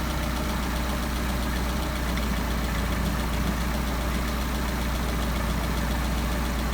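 A Solex carburettor engine idles steadily at about 750 rpm after its idle mixture screws are adjusted, a low continuous rumble with an even pulse and no voices.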